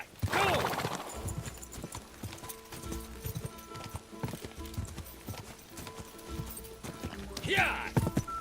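Horse hooves clip-clop steadily in a video game as the horse runs, with an excited voice shouting over them. A whinny or neigh comes near the start and again near the end.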